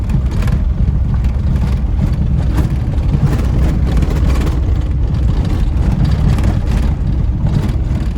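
Steady, loud engine rumble of a Tofaş Şahin car rolling along slowly, a constant low drone with road noise and no notable revving, no talking.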